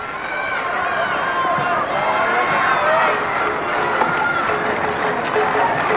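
Loud, sustained roar of the crowd at the 1986 Davis Cup tennis final, a dense wall of cheering and shouting with voices talking over it throughout.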